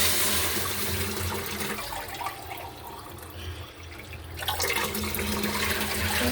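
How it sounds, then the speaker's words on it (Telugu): Water pours steadily into a pan in a continuous splashing rush, growing louder and brighter for the last couple of seconds. "ఈ కప్పుతో 2 కప్పులు నీళ్ళు వేస్తున్నాను."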